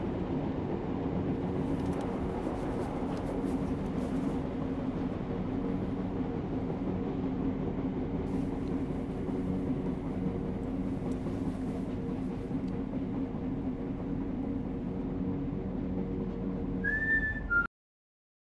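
A train rolls steadily along the rails with a continuous rumble and rattle, loud and close for most of the stretch, ending with a short high whistle just before it cuts off.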